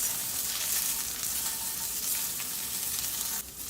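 Scotch bonnet pepper, carrot and other vegetables sauté in a pot with a continuous, close, hissing sizzle that drops off slightly at the very end.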